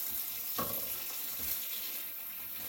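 Water runs steadily from a tap, a constant hiss with a couple of brief splashes as beer-brewing equipment is rinsed under the stream.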